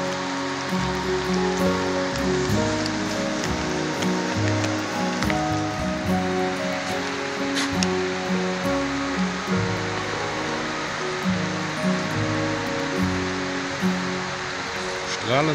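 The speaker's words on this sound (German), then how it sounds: "ich bin hier wirklich umgeben von Wasserfällen" Waterfalls at the Blautopf spring rush in a constant, dense roar of falling water, with music and a voice layered over it.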